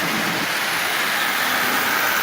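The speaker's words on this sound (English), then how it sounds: "this engine is running really well" A Marx 1666 toy train steam locomotive with tender runs at about half power pulling twenty Marx cars, giving a steady, dense whirring rumble that stays even and continuous throughout, with no voices.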